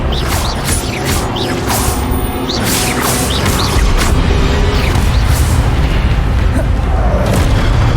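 Expelliarmus disarming spell cast in Hogwarts Legacy, a run of booming, whooshing magical bursts with crashing impacts layered over a dense, loud game soundscape, repeated several times through the stretch.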